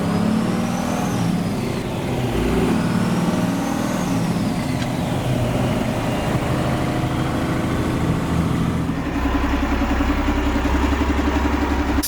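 A 500 hp American turbo diesel truck rumbles along from inside the cab, engine droning low and loud, with a deeper surge of power near the end.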